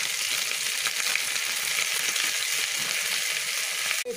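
Green chilli and ginger paste fries in a pan while being stirred, a steady close hiss of sizzling oil with soft irregular stirring scrapes, ending in a short sharp knock.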